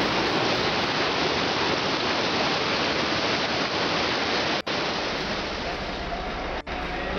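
Rushing river water very close by on a hot summer outing, a loud continuous roar of broadband noise that fills the whole clip.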